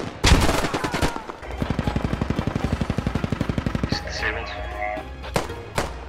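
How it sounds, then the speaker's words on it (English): Rapid automatic gunfire in the military shooter game Squad: a loud opening burst, then a steady run of evenly spaced shots lasting a few seconds, followed by scattered single heavy bangs, with voices talking over it. "everybody line up, aim your guns, get ready to shoot at Mike"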